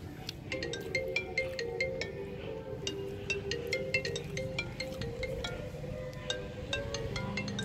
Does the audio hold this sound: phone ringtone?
yes